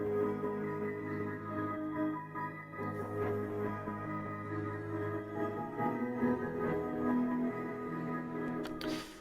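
Sustained, dense melodic loop flipped through a ToneFlex pitch effect in a Memphis-style beat, with warm low tones and steady layered harmonics that play continuously with no talking.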